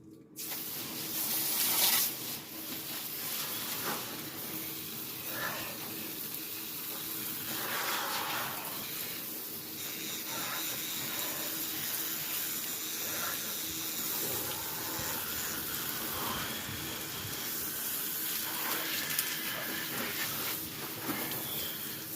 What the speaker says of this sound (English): we are going to clean ourselves with outside garden hose